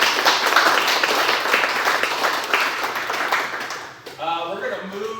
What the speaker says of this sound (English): Let's give Eileen a round of applause